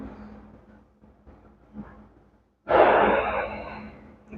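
A slow, deep breath in a guided breathing exercise: soft, quiet airflow at first, then a sudden loud, rushing exhale that fades over the last couple of seconds.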